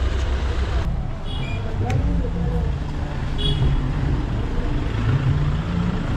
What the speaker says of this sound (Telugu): సో కార్లన్నీ ఫుల్ ఇట్లా జామ్ అయిపోతున్నాయి